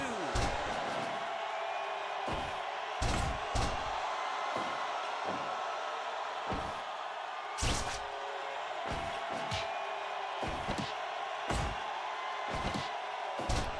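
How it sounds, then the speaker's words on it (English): Repeated heavy thuds in a pro wrestling match as a wrestler's head is slammed down onto the canvas, sharp impacts recurring every second or so over a steady arena crowd murmur and talk. "Oh, just slams Buddy Roberts' head down to the canvas."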